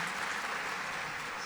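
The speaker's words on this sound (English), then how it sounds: "I think we should clap everybody." A pharmaceutical conference audience in a convention centre auditorium claps briefly, a soft, distant, continuous patter lasting under two seconds.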